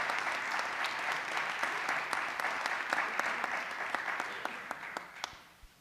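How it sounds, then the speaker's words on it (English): A round of applause for jump rope and hoops performers fills a school board meeting, steady dense clapping from the audience with a few sharper claps standing out before it thins and fades at the end. "So please, please give them a great round of applause because they are amazing."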